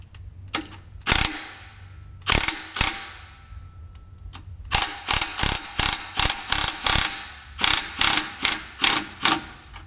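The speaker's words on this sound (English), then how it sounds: "we're gonna go ahead and clamp the muffler down tight here" A ratchet wrench tightens a Flowmaster muffler clamp on a Chevy Colorado ZR2 exhaust, a few early bursts of clicking followed by a steady run of quick, close ratcheting strokes in even rhythm.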